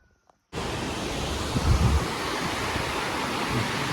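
After a brief quiet moment, a steady roar of rushing water from the roughly 100-metre Gaighat waterfall in Galkot, Nepal, cuts in abruptly and stays loud and constant.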